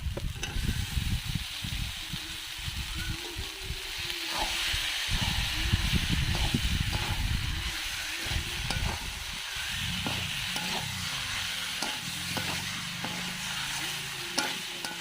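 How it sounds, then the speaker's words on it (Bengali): Raw jackfruit frying in hot spice masala for a Bengali jackfruit and prawn dish, with a steady sizzle and repeated stirring scrapes, close and loud, with no talk. "এবার আমি ওর মধ্যে দিয়ে দেবো মশলার মধ্যে এঁচুরটা"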